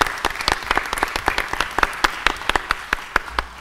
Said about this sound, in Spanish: Un aplauso, maestro.